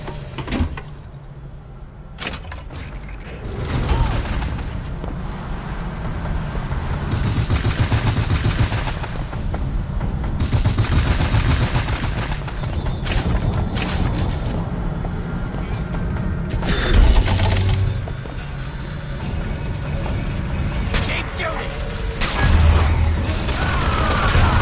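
Gunfire in the video game Bioshock Infinite, sharp shots and rattling bursts over a steady mechanical game soundscape, with a voice talking at times.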